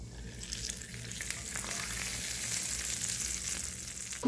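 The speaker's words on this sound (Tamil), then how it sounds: "இப்போ இந்த தாளித்த முந்திரி வந்து நம்ம பவுலில் ஊற்றி வச்சுருக்க இந்த மில்கோட சேர்த்துடலாம்" Tempered cashews are poured into a bowl of milk, giving a soft continuous crackling sizzle that builds gradually and ends with a brief louder clatter, no speech.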